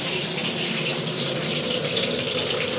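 Tap water running steadily into a kitchen sink to wash fish, a continuous close gushing splash with no pauses.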